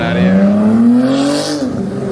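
A Honda NSX driving out of a car meet, its engine note climbing briefly under acceleration, close by and fairly loud, with faint voices in the background.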